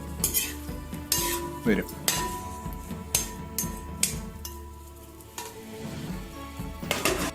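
Marinated chicken sizzles in a covered pan for chicken fried rice, with metal utensils clinking and scraping as it is stirred in an irregular rhythm, close and moderately loud.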